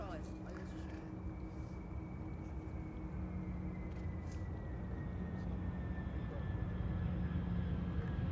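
A jet airliner landing at Amsterdam Schiphol, its engines producing a steady, broad rumble with a thin whine that builds slightly toward the end; fairly distant, with a voice talking over it.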